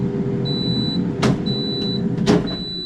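Three short electronic beeps from an air fryer spaced about a second apart, each a thin high tone, over steady low kitchen background noise.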